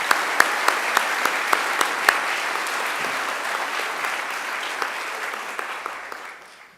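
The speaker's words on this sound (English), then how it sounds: "I think we should give Professor Wutheridge another great round of applause" Audience at a university graduation ceremony gives a long round of applause, dense steady clapping from a large crowd with a few sharp nearby claps standing out, fading toward the end.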